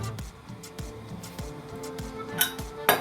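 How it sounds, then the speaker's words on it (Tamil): Metal lid of a pressure cooker holding Chettinad-style white mutton kurma is worked open, giving a series of light clinks and clanks with a sharper metallic knock near the end, close by and alone. "இப்போ குக்கரை திறந்துக்குவோம்."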